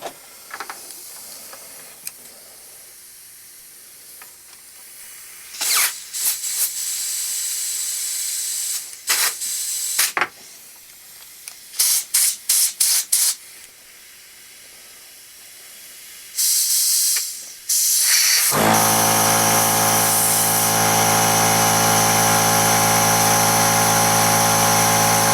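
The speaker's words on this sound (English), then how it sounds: "So I'm going to try blasting some air into the tube here and seeing if we can free it up that way." Compressed air blasts into the old plastic float tube of a 1984 Honda Z50R carburetor, heard as a series of sharp hissing bursts of varying length, followed by a loud, steady droning roar that runs to the end.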